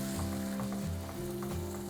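Frozen corn and spinach masala being stirred in a hot pan, a steady loud sizzle and frying hiss throughout with faint scraping of the spoon, continuous and close with no speech.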